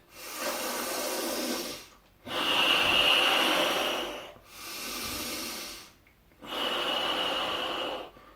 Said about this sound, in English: put your hands on your belly and just breathe into it